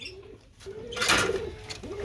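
Pigeons offered for sale in pairs coo in soft repeated low calls, one clear burst of louder chatter and rustle in the middle, nearby and without talk.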